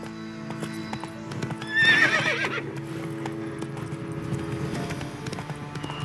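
Horse galloping in The Witcher 3 video game, steady rhythmic hoofbeats with a sharp neigh early on, continuing at moderate volume over in-game music.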